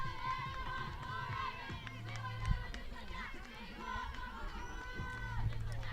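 Crowd of home fans cheering and roaring at a high school softball game between West Side and Buhl, a broad sustained roar with shouts and chatter throughout, with voices talking over it.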